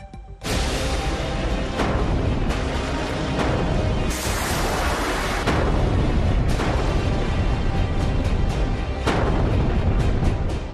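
Bombing and artillery explosions during the war in Ukraine: heavy, loud rumbling blasts that run together for about ten seconds, with several sharper bursts along the way.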